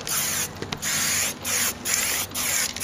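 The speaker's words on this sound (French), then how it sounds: "Donc voilà, deuxième couche," Foliatec anthracite metal aerosol spray paint goes onto a car wheel rim as a second coat, heard as loud, close hissing bursts of about half a second each, separated by short pauses.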